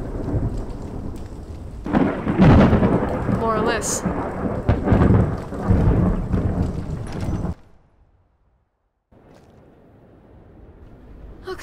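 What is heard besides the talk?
rain and thunder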